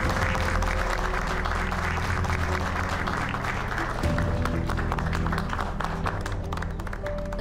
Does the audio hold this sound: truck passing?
no